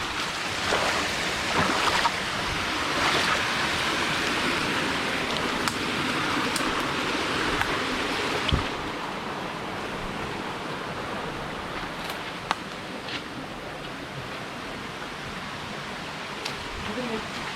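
A waterfall near a tea, cinnamon and rubber plantation gives a steady broadband roar of rushing water that holds continuously throughout, with no voices heard.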